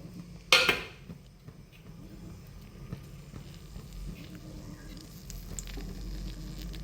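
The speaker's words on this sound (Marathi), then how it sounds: "अद्रक लसूणची केलेली पेस्ट मी यामध्ये टाकत आहे" Ginger-garlic paste dropped into hot oil in an iron kadai, part of an egg curry: a loud sizzling burst right at the start, settling into a steady, softer crackle and frying hiss.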